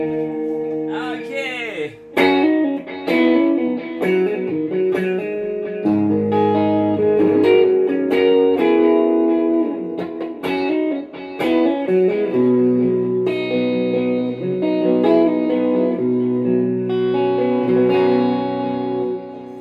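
A PRS SE Standard 24 electric guitar through a BOSS ME-80 multi-effects unit, gritty crunch tone with a mid-gain distortion, strummed chords and riffs, drenched in effects and reverb, loud and continuous.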